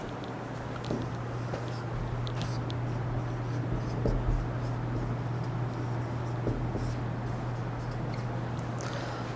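A pen writes steadily on paper during a classroom lecture, making continuous soft scratching strokes over a constant low electrical hum.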